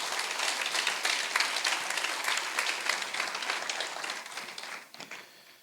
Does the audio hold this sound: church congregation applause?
yes